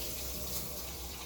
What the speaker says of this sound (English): a little bit of cold water.